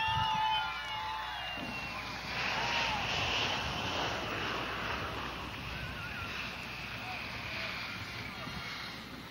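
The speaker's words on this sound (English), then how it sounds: "Well, here comes a plane." Large aircraft arriving at Asheville, NC airport for a presidential arrival in 1978, a sustained jet engine roar that swells and rumbles with broad wind-like noise, heard at a distance outdoors, with someone talking over it.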